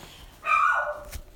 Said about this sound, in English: And there's Bentley barking